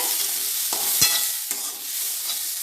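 Washed lentils with tempering, salt and turmeric stirred in a hot pan, a loud continuous sizzle with a few sharp spoon scrapes and one clink near the middle.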